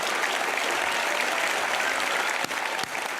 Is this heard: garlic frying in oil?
no